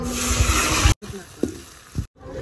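Hot oil sizzles steadily in a wok for about a second, then cuts out; the rest holds quieter stirring and scraping with a couple of brief clatters, nearby and fairly loud at first.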